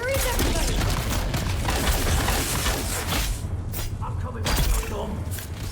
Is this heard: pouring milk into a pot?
no